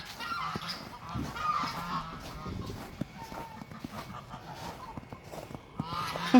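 Geese and other fowl honk loudly and repeatedly beside a freezing pond in winter, near and insistent, with footsteps and a person talking softly among the calls.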